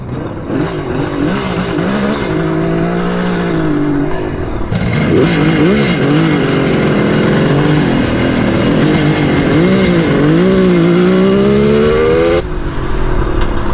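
A Kawasaki 750 H2 triple motorcycle engine revs and accelerates loudly and close, pitch climbing through gear changes over steady road and wind noise.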